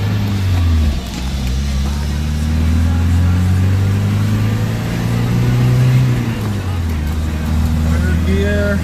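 A 1972 Mercedes-Benz 220d W115 diesel accelerating in first gear, its engine note rising in pitch, dipping briefly around a shift, then climbing again, droning loudly and close throughout while someone talks over it.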